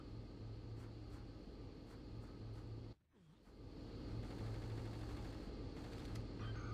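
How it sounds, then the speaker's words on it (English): An airplane in the video game Just Cause drones steadily overhead, a continuous rumbling engine wash that dips sharply for a moment midway before swelling back. "that freaking airplane is so loud"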